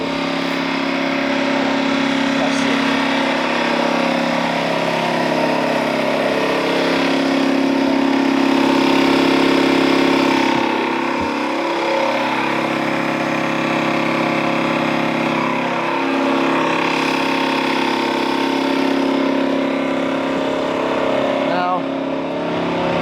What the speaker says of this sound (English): Compressor's loud